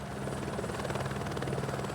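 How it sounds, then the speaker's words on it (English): A helicopter arriving at Everest base camp for an emergency evacuation, its rotor thumping in a steady, loud rhythm throughout with a continuous engine drone, no voices. "When a helicopter arrives at base camp, it means a person is in need of immediate evacuation."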